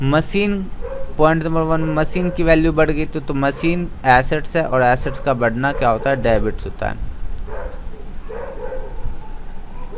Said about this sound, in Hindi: अब तो कुत्ते ही भौंक रहे हैं